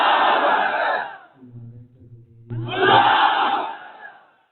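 A large crowd roars back a religious slogan in unison at a Majlis Tahaffuz-e-Khatm-e-Nubuwwat rally, with two loud, massed shouted responses separated by a brief lower voice.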